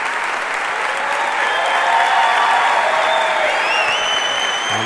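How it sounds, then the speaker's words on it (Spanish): A crowd breaks into sustained, even applause to welcome a guest, a full wash of clapping at moderate loudness with little variation. "Reciban, por favor, con un aplauso al señor Nicolás de Trasí."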